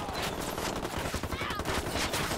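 Dense, continuous automatic gunfire from the video game Ghost Recon Wildlands, loud and close, rattling steadily the whole way through with overlapping bursts.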